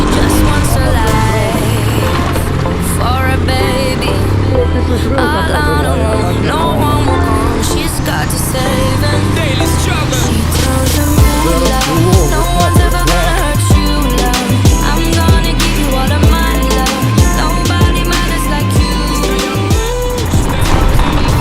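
A new motor fitted to a motorized Alfa bicycle runs while riding, its small engine buzz rising and falling through gear changes, loud and close, with someone talking over it.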